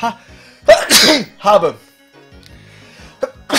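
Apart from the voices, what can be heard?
sneeze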